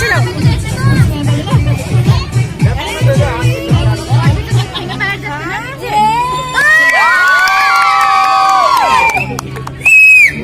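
A lively crowd at an engagement ring ceremony cheers and shouts, children's voices among them, then loud sustained whistles rise over the noise near the end.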